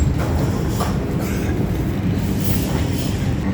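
A Shenzhen Metro Line 4 train running between stations, with a loud, steady rumble and faint wheel clatter throughout.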